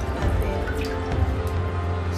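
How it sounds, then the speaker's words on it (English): Water splashing and gurgling steadily as it is flushed out of a washable, reusable cloth sanitary pad, close by, a continuous rushing flow with small drips and sloshes. "So now I need to flush this water out."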